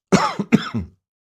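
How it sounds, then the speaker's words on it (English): Two quick, harsh coughs close up, one right after the other, then silence. "I've still got this cough."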